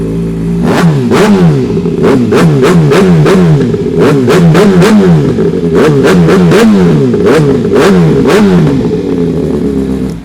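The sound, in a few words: used big bike motorcycle engine revving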